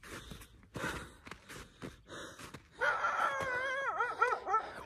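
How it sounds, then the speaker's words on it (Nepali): A dog on the Stanserhorn mountain trail in Switzerland confronts a hiker with a few short barks, then a rising, wavering whine or growl that holds loud and close for the last two seconds. "कुकुरले चाहिँ ऱ्याग हानिरहेछ मलाई अहिले।"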